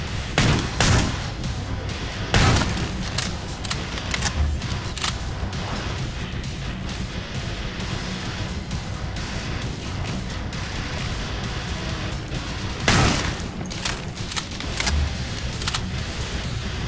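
Gunfire in the video game Killing Floor 2, dense bursts of shots and booms over continuous noisy combat, with a few louder sharp blasts standing out across the stretch.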